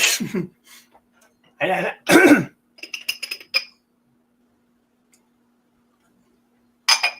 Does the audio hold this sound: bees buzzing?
no